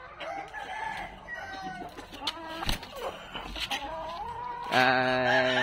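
A Peru-breed laying hen with a single spur on her right leg, in her third laying cycle, clucks repeatedly up close, then breaks into a louder, sustained drawn-out cackle near the end.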